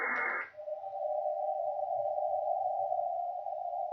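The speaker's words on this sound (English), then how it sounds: "I hear the Morse code, 5778 CW." A Morse code CW signal on a shortwave radio sounds as one steady, unbroken tone held for several seconds over faint static, starting after a short burst of hiss.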